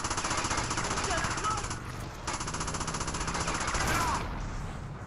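Rapid automatic gunfire rattles in GTA Liberty City Stories, a fast continuous burst with a brief pause before it resumes, loud and close, with faint game sounds around it.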